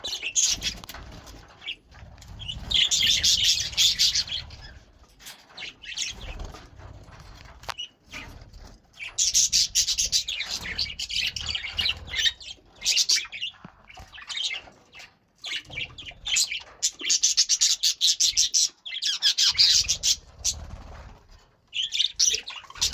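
Budgerigars in a cage chirp and squabble in dense, rapid bursts, with flurries of wing flaps; the chatter comes in waves, close and fairly loud.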